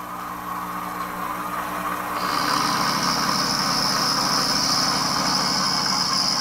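An Xtool KC100 key cutting machine runs a finish pass, its motor humming steadily and then rising into a louder, higher whine with a buzzing edge partway through, close and continuous without talk.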